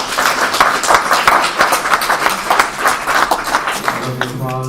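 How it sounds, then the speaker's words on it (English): Audience applause following the introduction of a talk on the science of wayfinding, dense rapid clapping from many hands at fairly close range, fading as a voice begins near the end. "Applause."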